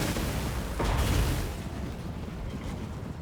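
A cannon fires in a Warhammer II Mortal Empires battle with The Empire. One heavy boom rises out of a dense, continuous roar of battlefield noise and then fades back into the din.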